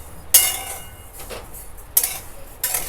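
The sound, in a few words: dry-roasting fennel seeds in a hot pan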